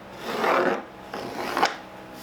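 A pencil draws along pallet wood to mark a window frame, giving two close, dry scratching strokes, each under a second long, separated by a short pause.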